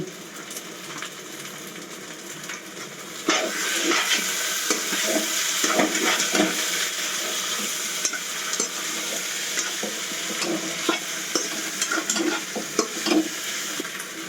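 Vegetables for a Bengali shukto curry fry steadily in a pan, including green banana and snake gourd pieces, with a continuous sizzle and repeated scraping stirs that get louder after a few seconds. No one speaks.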